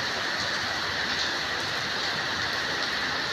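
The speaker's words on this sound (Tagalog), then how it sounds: "Pero ang lakas ng ulan." Heavy rain pours by a house and swimming pool, a dense, loud, continuous hiss with no break and no one talking.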